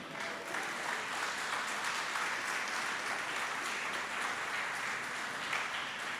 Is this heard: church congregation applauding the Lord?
yes